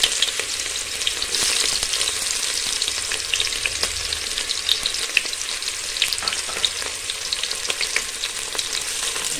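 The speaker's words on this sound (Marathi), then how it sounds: "कांदा चांगला परतून घेऊया" Onion fries in a pot with bay leaf for pulao, a dense continuous crackling sizzle with small pops and occasional stirring, close and steady with no voices.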